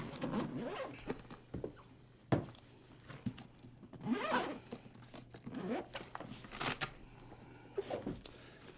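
A zipper is pulled open around a Protec Propac tenor trombone case, with several rasping pulls of varying length close by and soft handling noises between them.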